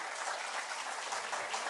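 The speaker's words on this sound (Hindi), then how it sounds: "तालियों के साथ उनका स्वागत करिए" At an Indian awards ceremony, an audience claps steadily to welcome a guest to the stage, a brief, dense, even patter heard fairly faint and distant.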